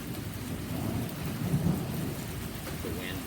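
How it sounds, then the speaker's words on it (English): Thunder from a storm rumbles low and broad, swelling briefly through steady rain with no voices over it. "then there was the crack of thunder"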